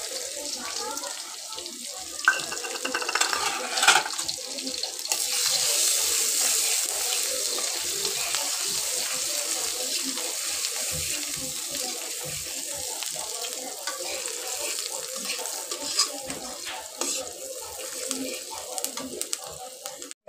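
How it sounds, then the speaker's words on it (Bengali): Chopped onions drop into hot mustard oil in a wok, and a loud sizzling hiss rises after a few seconds of quieter kitchen sounds, then holds steady and close for the rest of the clip. "কড়াইতে সরষের তেল দিয়ে দিলাম, দিয়ে এর মধ্যে পেঁয়াজ কুচি দিয়ে দিলাম।"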